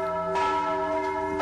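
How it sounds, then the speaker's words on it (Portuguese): A church bell tolls with a sustained, ringing resonance, a fresh strike arriving about a second after the first, loud and close with no voices over it. "O sino da igreja tocava 9 vezes, anunciando que tinha falecido"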